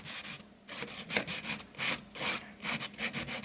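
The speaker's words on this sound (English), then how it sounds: "you can use sandpaper to just rub" Sandpaper rubs dried decoupage paper off a wooden trunk in quick back-and-forth strokes, a close, rhythmic scratchy rasping that repeats steadily with no talking.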